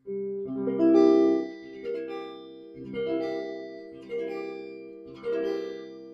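An A-shape seventh barre chord strummed five times at a slow, even pace, each strum ringing briefly before the next; clean tone, close and alone.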